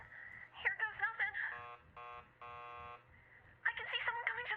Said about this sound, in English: keep calm and ring the buzzer